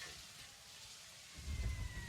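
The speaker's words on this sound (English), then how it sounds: "Oh, we have rain?" Steady rain falls in The Incredible Adventures of Van Helsing, set in a Victorian-era Balkan world: a continuous soft hiss of rainfall with a low rumble swelling near the end, no talk over it.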